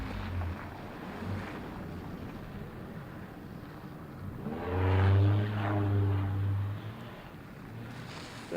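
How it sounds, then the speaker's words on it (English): An airliner passes overhead at Boston Logan Airport, its engine roar swelling loud and low for a few seconds before easing off, with wind rumble throughout. "so we'll have some planes flying over our heads again."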